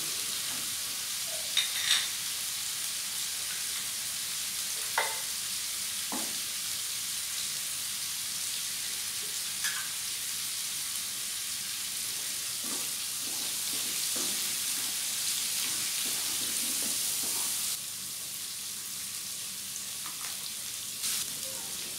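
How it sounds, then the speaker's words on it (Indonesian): Spice paste with onion, bay leaves and galangal fries in a pan, giving a steady, even sizzle with a few light clicks and stirring scrapes throughout, no voices. "sekarang aku masukkan bawang bombay sama daun salam, lengkuasnya. Ini kita masak sampai matang ya teman-teman, bumbunya sampai matang"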